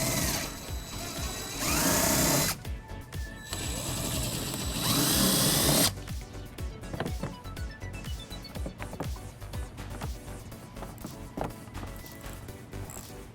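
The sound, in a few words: ratchet with 8mm socket removing bolts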